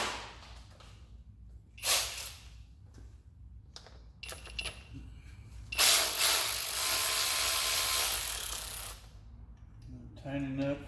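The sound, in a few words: ratchet wrench working on Ford F-150 truck engine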